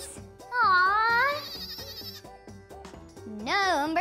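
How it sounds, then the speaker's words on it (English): Young goat kids bleat in wavering, high-pitched cries, one long call followed by a second after a pause, over a light rhythmic musical backing. "young goats are called kids"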